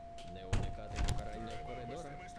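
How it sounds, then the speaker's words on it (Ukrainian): A door in the Baldi's Basics game unlocks and opens with a couple of thumping clunks over a steady electronic hum, while a voice talks underneath. "Видиш, я від- відімкнув двері."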